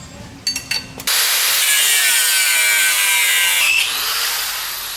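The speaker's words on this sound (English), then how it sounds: "get a grinding wheel, a grinding disc cutoff wheel, and cut these welds and remove this entire bracket here" A grinding disc cutoff wheel cuts through the welds of a lower shock bracket on a Jeep JK. It is loud and close, with a steady high-pitched scream for about three seconds, then winds down. A few short clanks come before the cut.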